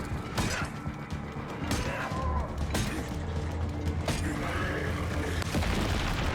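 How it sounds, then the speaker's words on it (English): Heavy weapon fire in State of Decay 2, several loud booming shots with mechanical clanks between them, spaced irregularly over a steady low rumble. "Let's put this heavy weapon to work."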